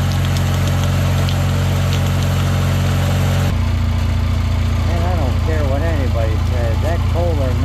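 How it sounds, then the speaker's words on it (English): A Kohler Magnum 20 engine on a lawn mower being fitted with a PTO runs loud and close, a steady low idle that shifts in tone partway through, with a voice talking over it. "That Kohler Magnum 20 is a nice motor."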